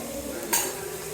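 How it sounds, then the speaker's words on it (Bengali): Desi chicken fries in a pan with a soft, steady sizzle and hiss, broken by one brief scrape or clink of a utensil stirring, heard close and without voices. "এটাকে এখন ভালো করে ভেজে নেব"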